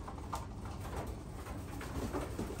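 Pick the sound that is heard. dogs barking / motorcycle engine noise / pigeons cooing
pigeons cooing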